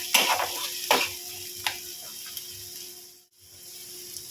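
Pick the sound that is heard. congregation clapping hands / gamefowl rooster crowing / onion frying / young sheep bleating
onion frying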